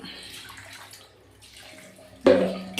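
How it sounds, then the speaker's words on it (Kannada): Water poured onto a dirty item before scrubbing, a soft running trickle that swells into a louder, fuller splash near the end, close by with no talking. "ಫಸ್ಟು ಸ್ವಲ್ಪ ಇದಕ್ಕೆ ನೀರು ಹಾಕೋಬೇಕು"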